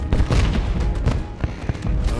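Fiona fireworks bursting in the Wii game Shrek Forever After, a quick run of booming pops over a rumbling game soundtrack.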